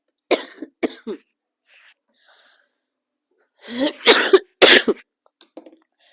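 Several sharp coughs from a person with a fever, close by: two or three quick ones at the start, then a heavier burst of harsh coughing, with quiet pauses in between.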